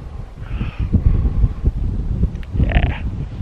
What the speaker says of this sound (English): the wind off this thing is chilly